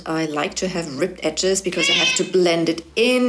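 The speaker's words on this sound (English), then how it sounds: "That was my cat, I'm sorry." A house cat meows repeatedly, close and loud, its cries overlapping a woman's speech during a glass-cabinet decoupage makeover.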